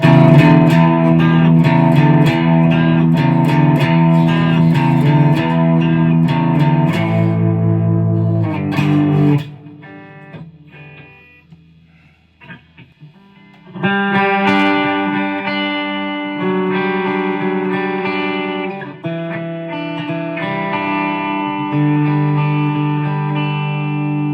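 A loud distorted WestCreek 333 semi-hollow electric guitar on the bridge pickup, through a loud amp in a small room, plays chords and riffs with a ringing, reverberant tone, pausing briefly midway to let a note decay before resuming.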